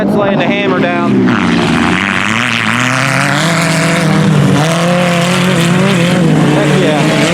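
Stock-class Yamaha YXZ side-by-side driven hard on a short-course dirt track, its engine loud and close, revving steadily with shifting pitch, under someone talking over it.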